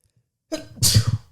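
One sharp human sneeze bursts out after a short silence, close and fairly loud, starting with a quick inhale and ending in an explosive breathy blast.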